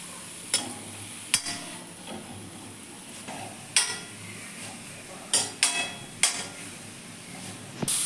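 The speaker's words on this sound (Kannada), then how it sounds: "ಮೆಂತ್ಯ ಸೊಪ್ಪು ಚೆನ್ನಾಗಿ ಎಣ್ಣೆಲಿ ಬಾಡಿದೆ" Fenugreek leaves sauté in oil in a pan with a faint, steady sizzle, broken by sharp, irregular clicks and scrapes of a spatula stirring against the metal.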